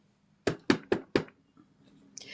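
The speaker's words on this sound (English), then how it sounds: "then you hear a knock on the door" Four sharp knocks on a door in quick, even succession, close and crisp against near silence, followed by faint rustling.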